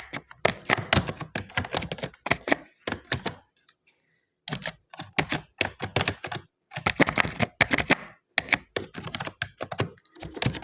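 Rapid clattering keystrokes on a computer keyboard during a Microsoft Word lesson, typed in close, steady bursts with a brief pause partway through.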